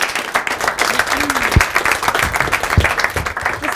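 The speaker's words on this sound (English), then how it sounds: "Please give him a warm hand of applause" A studio audience applauds with dense, steady clapping throughout, while a voice briefly sounds over it.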